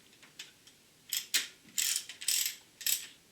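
Ratchet wrench clicking in short bursts while bolts on a Porsche 944 S2 bearing bridge are run down evenly, several quick ratcheting strokes, close and fairly quiet.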